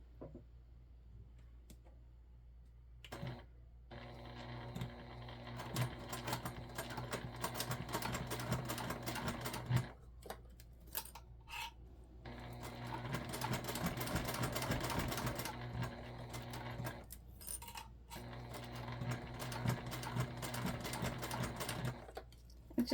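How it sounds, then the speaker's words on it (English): A sewing machine stitches down the open and folded sides of a beginner circle bag in long, steady runs of rapid, close mechanical clatter, pausing briefly between seams, with no talking. "go sew down our open side, and then we're actually also going to sew down our folded side"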